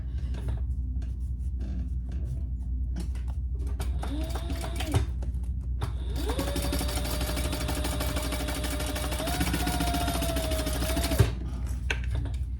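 Sewing machine basting down the sides of a fabric wallet with coin pouch, a steady mechanical whir building to a sustained run in the middle, close and moderately loud.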